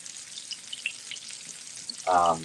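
Meat for braised short ribs sizzles in a pan: a faint hiss that swells into a short loud burst of frying near the end, heard up close with no talking.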